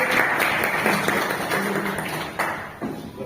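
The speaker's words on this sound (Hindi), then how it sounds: "भाई जोरदार तालियां हो जाए आप लोग देखिए।" Applause at a monthly meeting of a railway pensioners' association: a burst of hand clapping from a modest indoor gathering, fading toward the end with a few scattered claps.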